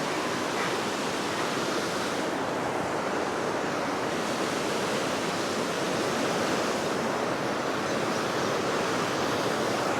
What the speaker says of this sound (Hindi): राइट साइड में आपका वाटरफॉल